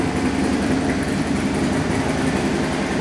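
A 2014 Harley-Davidson Dyna Street Bob with a 103 cubic inch V-twin engine runs steadily, a dense continuous rumble at fairly close range, unchanging throughout and heard alone.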